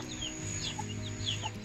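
A hen clucks softly in short repeated bursts, with a few higher chirps from chicks or birds scattered through a steady background hum.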